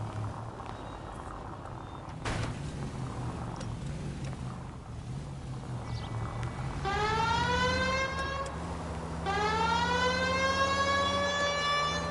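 Over a steady engine drone, a police car siren in the video game L.A. Noire starts up midway, rising and falling in long sweeps, loud and close.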